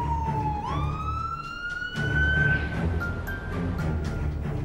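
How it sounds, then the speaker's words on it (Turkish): An ambulance siren wails nearby, a rising and falling electronic tone that sweeps upward and holds over steady road traffic rumble for several seconds. "Ambulans niye getirildi?"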